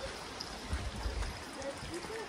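Water runs along a hiking trail, a stream flowing over stones with a steady, soft trickling wash close by, with no talk over it.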